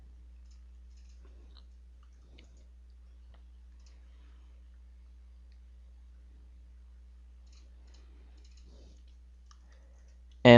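A computer mouse gives a few faint, sparse clicks while someone works in CAD software in a very quiet room, ending in a brief louder knock.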